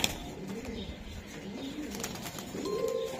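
Racing pigeons at a pigeon farm coo softly in low, rolling bursts, close but faint, with light rustling and a few chirps in the background.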